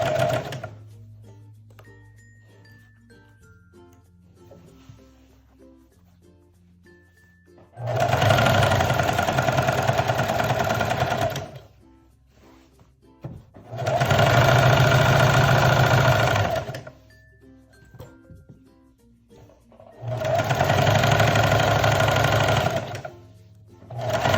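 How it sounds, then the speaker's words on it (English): A sewing machine stitches the center back seam of a dress lining and outer layer, three loud sustained runs of fast mechanical whirring separated by quiet gaps with small clicks from handling the fabric. "we're gonna go ahead and sew the center back of the lining and of the outer layer together"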